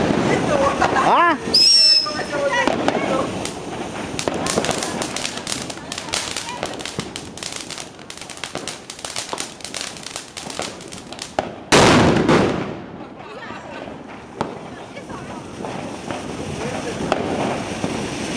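A firecracker launched outdoors that failed to burst properly, a whistling launch followed by crackling pops and a later loud bang, with excited voices talking throughout.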